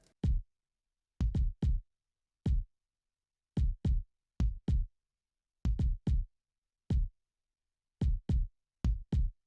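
Deep synthesized kick drums thump alone in a syncopated pattern, often in quick pairs or triplets, with silence between hits.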